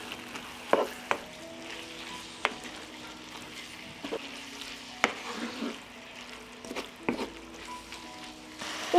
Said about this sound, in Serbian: I sad ću sve ovo promešati.